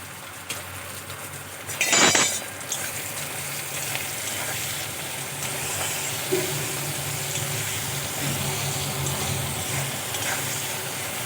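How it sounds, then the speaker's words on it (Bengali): Tomatoes and onions frying in a pan with salt, a steady soft sizzle running throughout, with a brief clink of a utensil near the start. "টমেটো আর পেঁয়াজ খুব ভালো করে ভেজে নিয়েছি"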